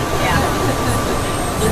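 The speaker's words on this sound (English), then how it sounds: "This train is stopping." An airport plane train at Atlanta's airport slows to a stop at a station, a steady interior rumble and hum heard up close while an automated voice announces.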